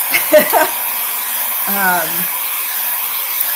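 A hair dryer blows steadily on an Easter craft decoration, a constant airy whoosh running the whole time, with a brief voice-like hum breaking through partway.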